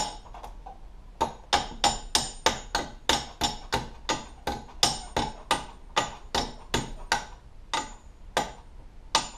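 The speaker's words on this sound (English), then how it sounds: "all you gotta do is get a hammer and hammer it" A hammer strikes metal being shaped for homemade nunchucks, about twenty sharp, close blows in a steady rhythm of roughly two per second, with no talking.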